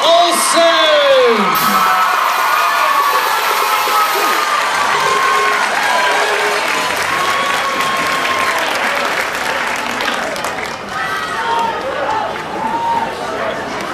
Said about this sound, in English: let's hear it for your 56th Princess K of the Milky Way, Elizabeth Olson.